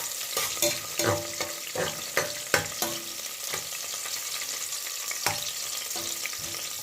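Pimento, pepper and garlic sizzle in hot oil while a utensil scrapes and stirs the pan in repeated sharp strokes, a steady frying hiss running underneath throughout.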